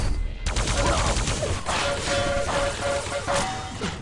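Loud, continuous weapon fire from a 125fps competitive arena shooter playoff match, with dense overlapping shotgun blasts and rocket explosions filling the whole stretch, crackling and booming without pause.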